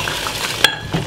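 Spoon stirring lamb with red onion in a sizzling pan, a steady frying hiss with a soft scrape and a single sharp metallic clink partway through, close and alone.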